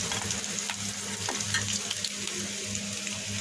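Chopped onion frying in hot oil with bay leaf, cinnamon, cloves and cardamom in a home kitchen pan, a steady close sizzle with occasional stirring scrapes and clinks.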